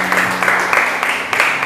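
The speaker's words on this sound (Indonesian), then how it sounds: "Berikan sorak-sorai buat Tuhan yang dahsyat luar biasa" A church congregation at an evangelistic service in Banyumas claps and cheers in praise to God, a dense crowd of applause with rhythmic clapping swells, loud and close.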